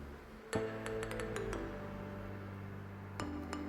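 Metal lid set on a cooking pot of Kerala-style dal curry, making a sharp clink followed by a long ringing tone, then a second lighter clink near the end, close and alone.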